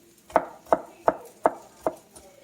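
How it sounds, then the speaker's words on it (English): A knife chops through food on a cutting board, five crisp evenly spaced strikes close up, each a sharp thud that dies away quickly, with no voices. "And then I slice it thin. And then what I do after that, chop it up."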